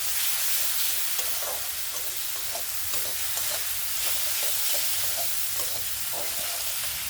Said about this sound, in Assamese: এতিয়া নিমখ হালধিৰ সৈতে মই মছলাখিনি অলপ টাইম ফ্ৰাই কৰি লৈছোঁ